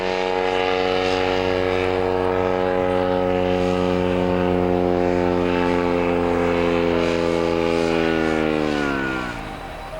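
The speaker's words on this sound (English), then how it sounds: "flying RC planes and watching people fly their parachutes" A radio-controlled model airplane's buzzing propeller engine drones loudly overhead, its pitch sliding steadily downward as it passes and fades away near the end.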